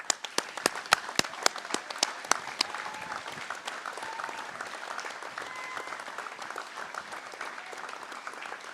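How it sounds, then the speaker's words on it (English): A standing audience applauds graduating firefighters at a fire and rescue recruit course graduation ceremony, starting with a few sharp nearby claps that swell into steady, sustained clapping from the crowd. "join me in a round of applause for our graduating firefighters"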